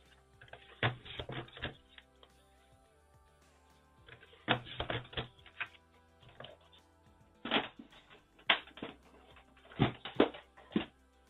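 A paper trimmer slicing through a stack of 3x4 cards in four separate bursts, each a quick run of close rattling, clicking strokes with quiet pauses between.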